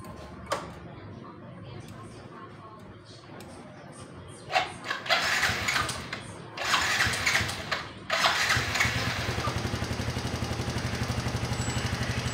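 A stock Yamaha Mio i 125 motorcycle with a 57mm bore and upgraded 110cc injector starts up after a few cranking attempts, then settles into a steady close idle; someone speaks briefly early on.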